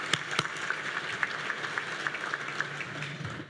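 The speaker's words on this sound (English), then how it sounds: "Let's give our representatives a round of applause" Moderate audience applause at a State of the City event honoring congressional representatives, scattered claps forming a steady patter with a couple of sharp nearby claps at the start, fading out toward the end.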